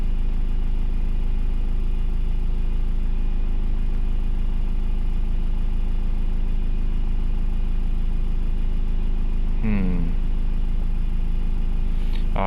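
An older, worn banger car with an unrepaired fault idles steadily, a continuous low engine drone with a constant hum and no talk, plus a couple of brief clunks near the end.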